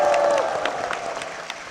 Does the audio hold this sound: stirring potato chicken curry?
no